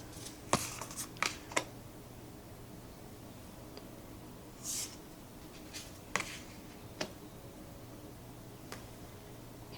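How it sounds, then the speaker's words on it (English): Modern Mysteries Tarot cards are drawn one at a time from the deck, making a series of short, crisp card slides and flicks, close up and quiet, with gaps of near silence between them. "with the way I'm pulling these cards one by one"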